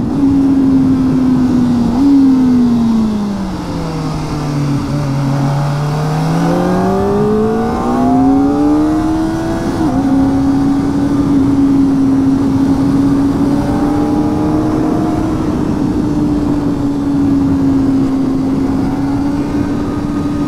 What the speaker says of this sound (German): Aber klingt sie nicht einfach herrlich, dieses Motorrad hier?